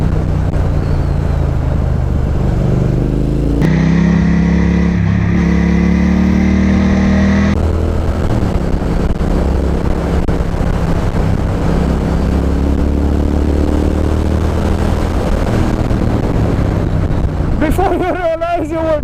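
A Triumph Thruxton R motorcycle accelerates through city streets, its engine note climbing and shifting through gears, loud and close, with someone talking over it throughout.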